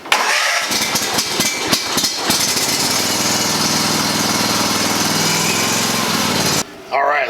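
A Kawasaki engine on a Toro zero-turn mower cranks with a few rapid starter bursts, catches and settles into a loud steady running drone, then cuts briefly near the end.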